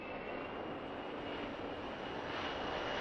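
A steady, loud airplane engine roar drones continuously with an even broadband hiss and no voices.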